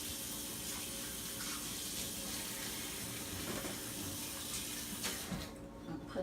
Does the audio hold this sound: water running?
yes